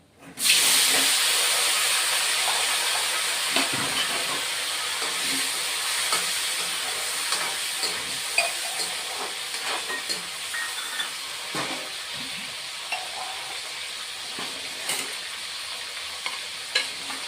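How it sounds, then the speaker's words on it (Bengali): Potatoes fry in a pan for a Bengali-style katla fish curry, giving a steady broadband sizzle with occasional clinks and stirring scrapes, close and continuous with no talk. "আলু অল্প ভেজে নিই"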